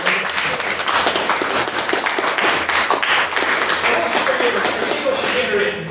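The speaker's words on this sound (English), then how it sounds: "A round of applause" Audience at a debate on nationalism and xenophobia clapping in a steady round of applause, close and dense, with voices talking over it at times.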